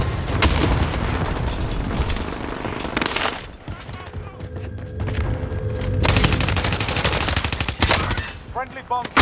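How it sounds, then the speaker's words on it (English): Friendly bomb drop in the Warzone shooter game: heavy booming explosions and rolling blasts mixed with bursts of gunfire, loud and sustained, with a brief lull midway and some voices underneath. "Friendly bomb drop"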